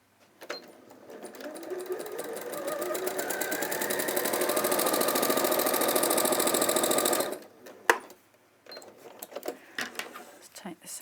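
A domestic sewing machine stitching cotton canvas from one marked line to another, a steady fast whirring run of about six seconds that stops abruptly, followed by a click and light handling noises.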